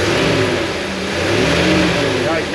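A 50-year-old Winnebago's engine running after new belts are fitted, a steady loud mid-pitched rumble with a slight rise in revs, while people talk over it.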